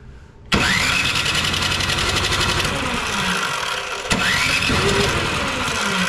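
A Husqvarna 24-inch snow blower engine, choked and primed, catches abruptly and revs raggedly, then drops and surges again, loud and close with a steady mechanical rattle.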